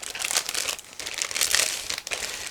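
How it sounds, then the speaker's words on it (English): A plastic bag of model kit parts for a 1/35 German tankmen and gantry crane set being opened, close crinkling and rustling of thin plastic in uneven bursts, alone without talk. "So now I found another plastic bag, so I'm opening it as well."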